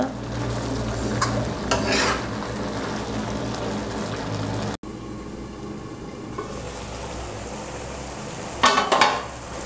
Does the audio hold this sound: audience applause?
no